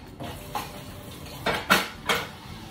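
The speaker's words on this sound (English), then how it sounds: "I'll just do the dishes." Dishes being washed: several sharp clinks and clatters of plates and cutlery knocking together, irregularly spaced and close by, with a quiet background between them.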